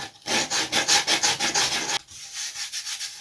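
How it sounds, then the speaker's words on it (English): A wooden part for a Lunak aerobatic vintage glider model is roughly sanded by hand, giving a close, steady run of rhythmic scratchy strokes that stops abruptly, leaving quieter rubbing. "crudely sanding it, because I can't take it over here yet because I've got to put the infill in on this"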